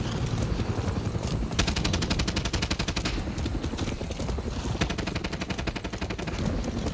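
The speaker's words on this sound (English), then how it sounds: "I don't know if he's shooting at me" Gunfire in Far Cry 6 crackles in rapid automatic bursts, several rattling strings of shots over a steady background din, moderately loud and with no talking.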